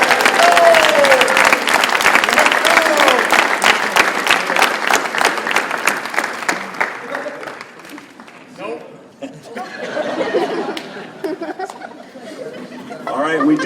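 Clapping erupts at a youth basketball camp awards ceremony honoring the Coach of the Week, a dense burst of applause mixed with crowd chatter and a little laughter that tapers off after about eight seconds into murmuring talk.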